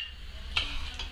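Peas are stirred in a pan while cooking a duck with peas and mint, giving a brief soft scrape with a couple of light utensil taps, quiet and close.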